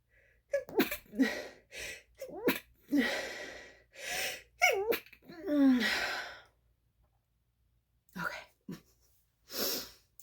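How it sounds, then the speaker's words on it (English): Someone gasps and sighs several times, breath catching, then lets out a sneeze, with a couple more breathy bursts after a short silence. "I think I'm going to sneeze"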